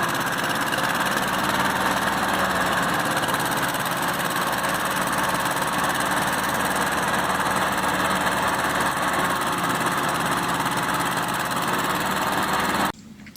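Duromax XP35HPE engine repowering a Bobcat 610 skid steer, fitted with added mufflers, runs steadily at a loud, close, continuous drone with rough mechanical texture, cutting off abruptly near the end.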